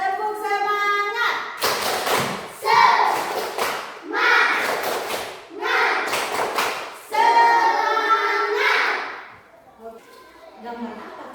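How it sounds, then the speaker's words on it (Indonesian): Children chant together and clap in a rhythmic spirit-clap pattern, with bursts of sharp group claps between loud, close voices in a classroom. "Tepuk semangat. Ulang, satu kali lagi. Kasih semangat lagi. Tepuk semangat."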